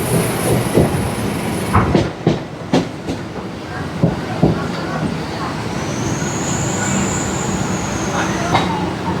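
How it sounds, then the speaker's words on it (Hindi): A Kolkata Circular Railway train runs along the tracks, with a steady rumble broken by sharp rhythmic wheel clacks at the rail joints and a high squeal of wheels toward the end. "माजरहाट स्टेशन को छोड़कर अब ट्रेन आगे बढ़ गई है"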